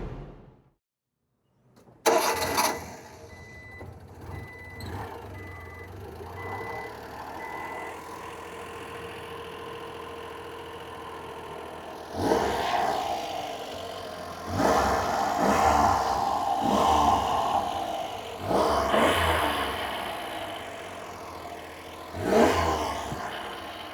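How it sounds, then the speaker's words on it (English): The stock three-cylinder engine of a 1995 Honda Acty HA4 kei truck idles with a steady low drone, then revs up in several sharp bursts before settling back, with no talking. "I actually like the way the 3-cylinder engine sounds out of the box"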